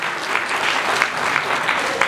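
Audience applause at an international school graduation ceremony for the principal: steady, dense hand clapping from a crowd throughout, fairly close, with no speech over it.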